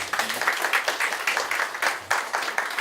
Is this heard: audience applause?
yes